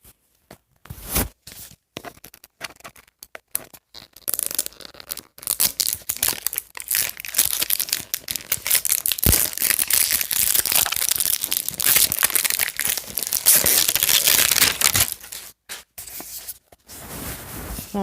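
Cardboard cup with a plastic lid from a doll toy being torn and opened, a steady run of close crinkling, tearing and crushing noises that grows denser through the middle and continues to the end, with no talking.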